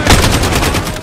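Loud, close automatic gunfire from a weapon in the Modern Warfare campaign video game, a rapid continuous burst of shots with no pauses.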